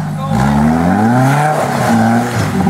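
A Jeep engine revs hard as it punches into a deep mud rut at a Fourth of July Jeep run in Liberty, the roar rising and holding loud and close for a few seconds amid tire spin.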